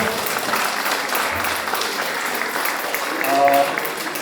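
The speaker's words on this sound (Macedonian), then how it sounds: "Аплауз" Audience applause at a promotional event in Bitola, steady and sustained clapping throughout, swelling slightly louder near the end.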